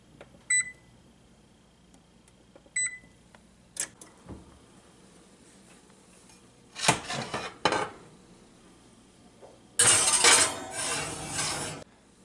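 A baking dish with butter goes into a preheating oven: a couple of short beeps, a few scattered knocks, a cluster of clattering clinks, and finally a louder rattling, scraping bang of the dish and oven rack, with quiet gaps in between.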